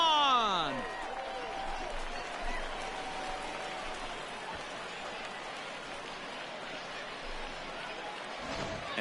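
A home crowd cheers and roars in the baseball video game MLB The Show 20 during the bottom of the 8th inning, a steady broad wash of crowd noise that runs the whole time.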